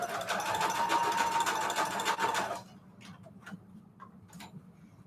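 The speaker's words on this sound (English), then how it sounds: "I'm going to sew this together." A sewing machine stitches overlapping lace and fabric trim together in a steady, close, fast whirring run for a few seconds, then stops, leaving a few faint ticks and light handling sounds.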